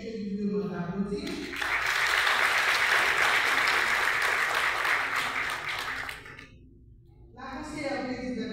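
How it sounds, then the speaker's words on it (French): Audience applause at a Haitian national commemoration of the women's movement, rising after a brief voice and holding strong for several seconds before dropping away, with talk resuming at the end. "je lui demande d'applaudir"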